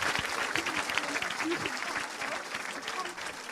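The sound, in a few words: applause acclaiming the Lord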